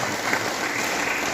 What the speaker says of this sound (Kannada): ಅವರಿಗೂ ಕೂಡ ಒಂದ್ಸಲ ಜೋರಾದ ಚಪ್ಪಾಳೆ.